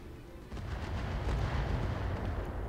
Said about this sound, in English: Shooting swarm.